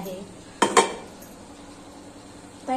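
A lid goes onto a cooking pan of potato dry bhaji with coriander after the gas is turned off, giving two sharp metallic clinks close together, with a faint further clatter near the end.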